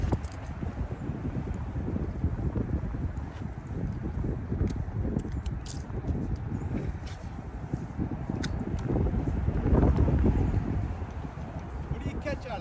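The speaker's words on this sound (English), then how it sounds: "It's windy." Steady outdoor wind buffets the microphone beside a river on a cold 35-degree day, a continuous low rumbling roar that swells near the end, with people talking over it.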